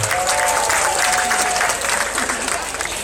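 Crowd applause at an Indonesian song and dance show at INDOfest, a loud, full round of clapping that fades slightly toward the end, with a voice briefly audible.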